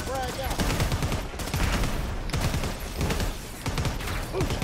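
A plasma pistol fires in Predator: Hunting Grounds as a dense, loud run of rapid bursts that keeps going the whole time, with a voice talking over the shooting.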